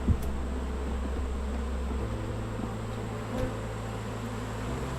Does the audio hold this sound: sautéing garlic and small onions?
no